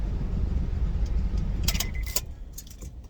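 A car key with a chipped, breaking plastic clicker jangles and clicks in the hand, a few sharp metallic taps after a stretch of low rumbling background.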